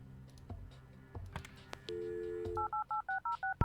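A desk telephone in the video game Kathy Rain is picked up with a few clicks, gives a steady dial tone, then beeps out a quick run of touch-tone digits, clear and isolated.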